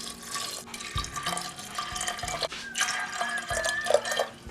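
Water is poured from a tap over half a cup of brown lentils in a pot, giving a close, splashing, gurgling flow with irregular bubbling bursts and some clinks, and no talk.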